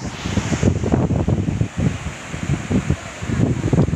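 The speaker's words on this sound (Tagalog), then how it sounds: "Lalakas ng alon, pwede mo surfing." Strong sea waves surge and break at a beach in Naic, Cavite, with a continuous rushing roar and heavy wind buffeting the microphone, no voices.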